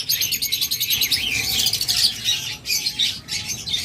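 Pet birds chirp and squawk busily up close, a continuous flurry of high tweets with rapid repeated notes and no voices.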